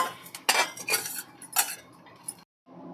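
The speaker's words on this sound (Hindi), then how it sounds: "ये सिम गैस पर रोस्ट करेंगे, हल्के चलाते रहेंगे" Cashews, almonds and chironji roast in a pan over low heat, stirred with a spoon that clinks and scrapes against the metal in several sharp, close strokes before going quiet.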